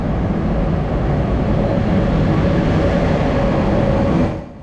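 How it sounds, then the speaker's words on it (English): A V-type RC6 electric locomotive hauls a sleeper train into a Swedish station, a loud steady rumble and rolling roar held without break before it cuts off sharply near the end. "Our train pulls in around 30 minutes before scheduled departure, hauled by this V-type RC6 electric locomotive"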